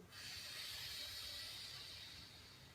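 A soft, steady nasal exhale during alternate nostril yoga breathing, a quiet airy hiss lasting a couple of seconds.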